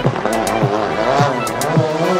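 Rally cars race flat out through a village street during the 2019 Rallye des Vosges Grand Est, several loud engine passes with rising and falling pitch and tyre noise in quick succession, close and continuous.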